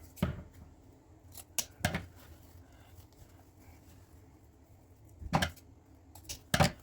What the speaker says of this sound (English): we're going to cut from the fold to the open end up at a diagonal